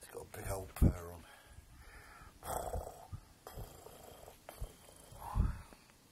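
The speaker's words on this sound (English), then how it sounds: "It's got a big old purr on." A young cat purrs steadily up close while people talk over it, with the low rumble running beneath the voices throughout.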